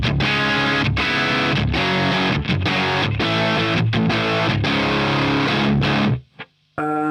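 Distorted electric guitar played through a Marshall 1959 SLP plexi amp, loud sustained chords with a few brief gaps in the rhythm, ending abruptly in near silence.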